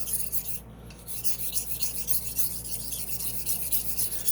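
A straight razor rubbed along a coarse sharpening stone while its bevel is set, giving a steady, close, rasping scrape that runs continuously with even strokes and no talking.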